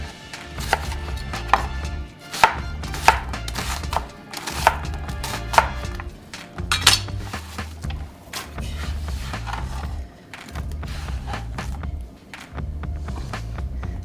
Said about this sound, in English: Okay, chop the onion and put it in the pot.